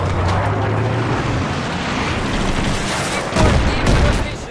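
A dense, roaring blast from a C4 charge and rocket strike in an online shooter game, loud and continuous with crackling debris, building to a heavier burst near the end.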